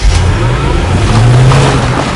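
A Mercedes ML AMG fitted with a 5.5 litre engine from the E55 revs loudly and steadily, a dense, continuous engine roar with rising pitch partway through, close and alone with no voices.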